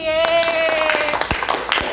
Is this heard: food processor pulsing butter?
no